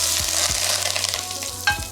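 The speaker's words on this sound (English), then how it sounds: "That hot oil, when it hits the kale, it sizzles a little bit." Hot oil with toasted almonds poured over raw kale for a salad hisses in a bright, continuous sizzle close by, with a low hum beneath and a brief flare near the end.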